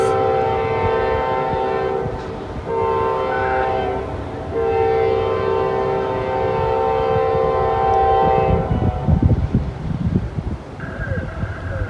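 Approaching freight train north of Atlanta, Georgia, blowing its horn in several long, loud blasts separated by brief gaps, with wind buffeting and rumbling growing louder toward the end.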